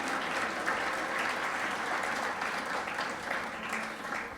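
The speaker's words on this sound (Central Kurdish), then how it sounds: "یەک چەپڵەی قایم بۆ خاتو سۆما" An audience at a stage event in 2024 applauds Ms Soma Haddad with a dense, sustained clapping that holds steady throughout, with no talk over it.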